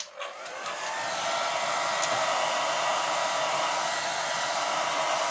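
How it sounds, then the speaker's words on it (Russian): Hair dryer switched on during decoupage stencil work, a steady loud whooshing hum rising over the first second and then holding constant close by, with no talking. "я вынуждена включить фен"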